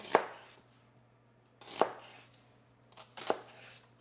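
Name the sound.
knife slicing a red onion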